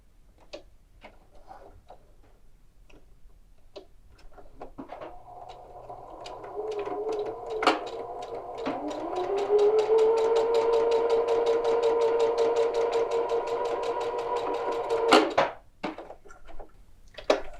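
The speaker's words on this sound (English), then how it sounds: "I'm going to top stitch it at 1/8 of an inch from the edge" A sewing machine topstitching a tie jacket, starting with a few clicks and short runs, then humming at a steady rapid stitch rate for several seconds before stopping with a clunk, heard up close and alone.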